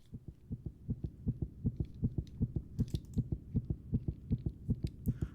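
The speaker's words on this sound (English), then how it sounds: "I could potentially combine this heartbeat with some more Rising Suspense." Heartbeat sound effect, a fast steady lub-dub thumping at roughly four beats per second, deep and close, with faint clicks in the background.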